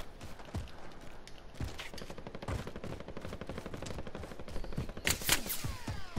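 Gunfire in an online battle royale video game, with rapid repeated shots crackling steadily at mid distance and a louder burst of sharper reports near the end.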